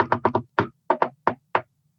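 Eight sharp knocks on a door in uneven bursts, a quick cluster of four, then single and paired raps, close and loud against silence.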